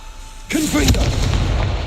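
Confringo fire spell in Hogwarts Legacy, a single loud booming blast that hits abruptly and rumbles on, with a brief spoken cry over the impact.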